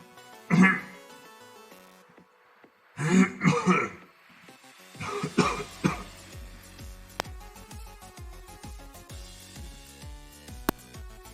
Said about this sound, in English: I had to clear my throat for a second